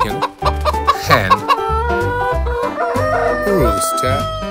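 A rooster crows loudly while hens cluck around it, close and lively, with the calls overlapping.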